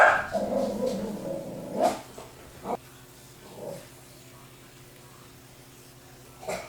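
A pet dog barks several times indoors, a loud burst at the start then scattered single barks and a yip, with quiet pauses between.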